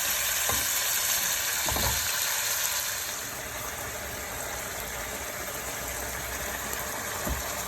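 Hilsa fish bones fry in a pan, giving a steady, close sizzling hiss throughout, broken by a few sharp utensil knocks near the start and end.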